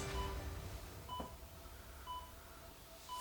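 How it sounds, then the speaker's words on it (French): A few short, faint electronic beeps sound at irregular intervals over quiet background noise. "on va avoir des petits bips"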